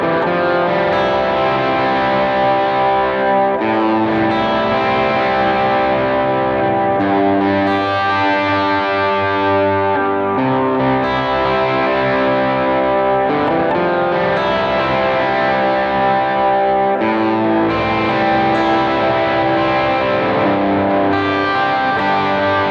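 Electric guitar strumming major seventh chords with added color tones, played through effects with a light distortion and chorus sheen; sustained, ringing chords changing every few seconds, loud and close with no talking.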